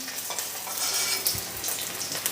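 Onion dropped into hot oil with popped mustard seeds for a mulberry-leaf thoran, giving a close, steady crackling sizzle with brief spoon scrapes and small pops, no voices.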